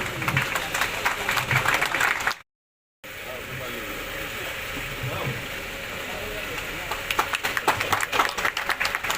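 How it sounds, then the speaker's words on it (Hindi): Audience applause at a public gathering, dense bursts of clapping at the start and again near the end, with a brief dropout to silence and murmuring voices between. "ताली बजती रहनी चाहिए।"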